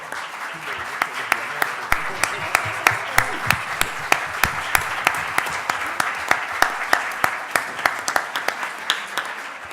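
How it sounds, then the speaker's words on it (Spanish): An audience at an international seminar claps steadily and enthusiastically for several seconds, with sharp individual claps standing out and faint voices mixed in. "Por un aplauso, por favor."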